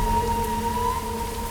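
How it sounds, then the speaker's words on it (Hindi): Steady rain falls in a desert, a continuous hiss of drops with faint low rumble beneath and thin sustained tones running through, unbroken for the whole stretch with no voices. "रेगिस्तान में बारिश, तो भी इस मौसम में"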